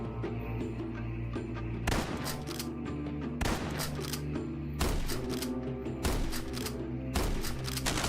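Five sharp, loud gunshots ring out at uneven intervals in the Quasimorph game, each a hard crack with a short echoing tail over a low ambient hum, with no talking.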